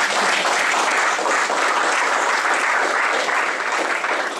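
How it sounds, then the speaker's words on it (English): An audience at a Melbourne Cocoaheads developer meetup claps steadily after a talk, a dense, even wash of applause that lasts the whole moment without any voices over it. "Feel free to clap."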